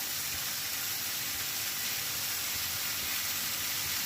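Vegetables, eggplant and ridge gourd, frying in a pan with ginger paste for a Bengali pui shak chorchori, giving a steady, even sizzle and hiss throughout with no talking.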